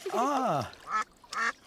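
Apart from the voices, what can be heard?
ducks quacking in a cartoon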